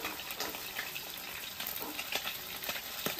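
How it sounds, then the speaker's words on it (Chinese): Hot oil spattering and sizzling in a pan as fish is fried for Chinese beer fish, a dense, continuous crackle with scattered sharper pops, close and loud, without speech. "那么多油崩过来"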